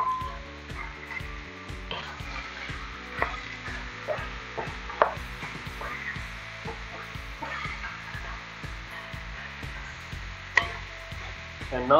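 Tomato goes into a hot frying pan and sizzles steadily, with stirring and scraping of the pan and a few sharp clinks against a soft background hum.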